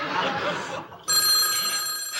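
A telephone bell rings in a 1977 television comedy sketch, a bright sustained ring that starts abruptly midway and stays loud over background laughter and chatter.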